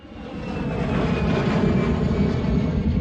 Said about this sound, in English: So let's go airport plane landing.